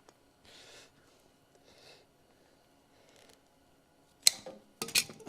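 Scissors cutting a length of rubber hose for a generator propane conversion, two sharp close snips near the end after quiet handling rustles.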